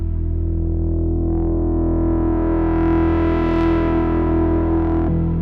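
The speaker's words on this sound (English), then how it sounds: "if we try it with the square" A Moog Subsequent 37 synth lead on a square wave oscillator holds one sustained, buzzy tone with rich harmonics for about five seconds. Upper overtones swell and then fade before it cuts off sharply, with no talking.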